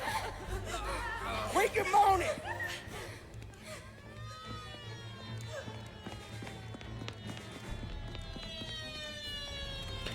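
Police car sirens wail in the Mafia Definitive Edition video game, their rising and falling tones sweeping through the back half beneath someone talking and chuckling over the game.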